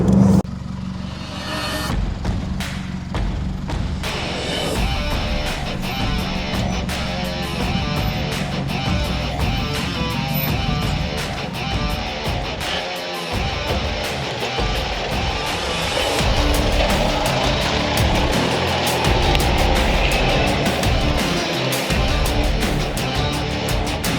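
A vehicle crawls in low first gear across Strathbogie clay, its engine a loud continuous drone with constant rumble and rattling and a slight rise in intensity toward the end, no voices over it.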